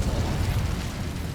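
Incendio fire spell being cast in Hogwarts Legacy, a dense, continuous low roaring burst like a fiery explosion, steady and loud across the whole moment with no talk.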